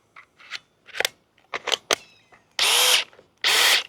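A DeWalt power drill runs on a CEENR adapter battery. It fires in two loud bursts of roughly half a second each, preceded by several sharp clicks and handling knocks.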